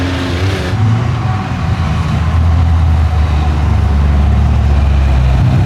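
A CFMOTO Z10 side-by-side's engine revs hard while driving, a loud, close, continuous roar with a deep rumble that holds steady throughout.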